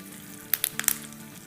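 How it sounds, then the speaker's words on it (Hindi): Curry leaves crackle in hot ghee for a tadka over khichdi, with a few sharp pops and spits scattered over a quiet, low sizzle. "इस पे खिचड़ी पे तड़का देंगे, घी का और कड़ी पत्ते का, सूखी लाल मिर्चों का"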